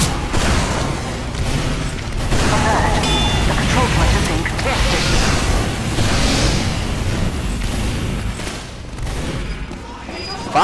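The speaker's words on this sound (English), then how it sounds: "I hear explosions now" Booms and bursts of gunfire from a team match with a bazooka in play, a dense, continuous barrage of blasts and shots with people talking over it throughout.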